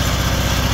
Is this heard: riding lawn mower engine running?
yes